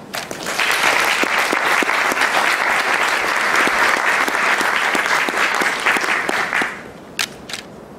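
Audience applause welcoming a novelist onto the stage at a high school literary awards event, steady and sustained for about six seconds before fading out, with a couple of scattered claps afterward and no talking.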